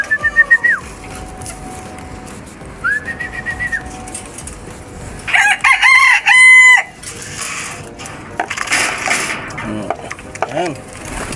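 Backyard chickens cluck in short bursts while a rooster lets out a loud, close crow midway, with more scattered clucking and bird calls around it.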